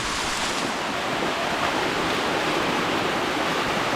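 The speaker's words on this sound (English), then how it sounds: "I apologize that it's loud. I can't control the water." Loud, steady roar of rushing water at Rufus Morgan Falls in the Nantahala Forest, a bedrock slide pouring continuously, close and dense with no talk.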